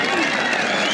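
A crowd claps steadily throughout at a kurash wrestling event in Uzbekistan, dense sustained applause with no gaps.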